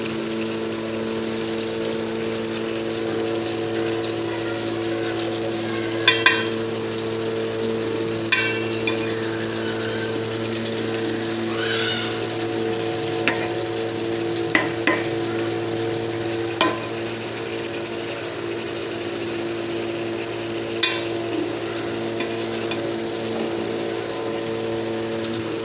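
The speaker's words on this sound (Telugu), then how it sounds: "చాలా జాగ్రత్తగా తిప్పుకోవాలండి, లేకపోతే ముక్కలు విరిగిపోతాయి." Fish pieces frying in oil in a pan for a home-style Telugu fish fry, a steady sizzle running throughout with occasional sharp clinks and scrapes as the pieces are carefully turned, no talking.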